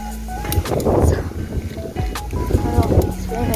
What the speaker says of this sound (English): It's really windy, really windy.